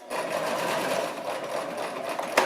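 A Brother LX-3125 sewing machine runs steadily along an apron seam, one continuous close whir of stitching with a faint click near the end.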